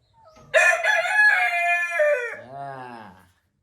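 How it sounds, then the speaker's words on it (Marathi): A rooster kept in a village coop crows once, loud and close, with a long cock-a-doodle-doo that trails into a lower, fading final note. "याच्यात हा बघा कोंबडा आहे"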